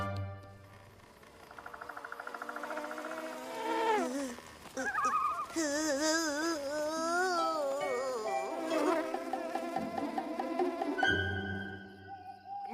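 Cartoon bees buzz in wavering, sliding tones, several at once, weaving and swooping close by alongside playful music.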